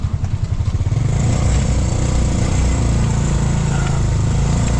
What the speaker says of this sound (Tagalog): Sumakay na si Maloy sa motor.